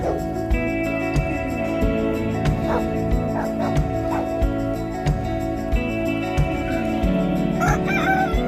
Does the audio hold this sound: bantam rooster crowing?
yes